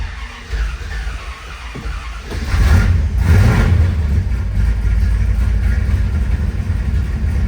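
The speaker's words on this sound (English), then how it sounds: "I'm going to tap on the gas just twice and fire it up" A 1973 Plymouth Road Runner with a 440 V8 on a cold start: a crank, then the engine catches and settles into a loud, deep, rumbling idle heard close up with no talking.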